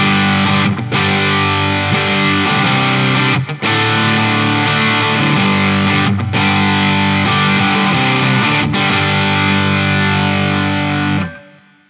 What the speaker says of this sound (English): Alright, and here's the distortion.